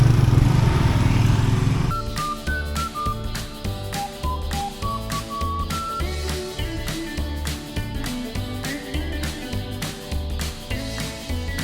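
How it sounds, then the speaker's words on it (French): Traffic noise on a street in Candi Dasa, Bali, where many motorcycles are passing, with engines humming and droning close by over about twelve seconds and a steady rhythmic pulse of music running under them. "En tout cas il y a beaucoup de motos."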